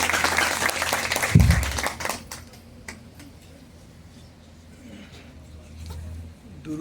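Audience applause at a gathering on Afghanistan, a broad wash of clapping that swells early and then thins to a quieter patter with scattered individual claps.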